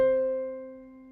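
Piano keys middle C (C4) and the C an octave above (C5) sound together as one clean octave, a single soft struck chord decaying steadily over about a second with no talk.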